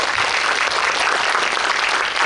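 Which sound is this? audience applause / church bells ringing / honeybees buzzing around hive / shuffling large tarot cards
audience applause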